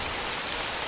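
Steady rain falls on a surface, a dense, even hiss of drops that fills the whole moment without pause, close and fairly loud.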